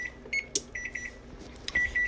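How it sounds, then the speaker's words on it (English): An oven kitchen timer beeps while cookies bake, a quiet series of short, evenly repeated electronic beeps in a few bursts, with faint kitchen background noise. "So that's the timer going off."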